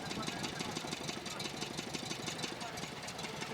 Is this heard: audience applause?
no